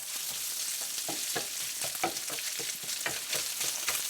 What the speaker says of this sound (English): that's cooking up really good, and the bacon's frying nicely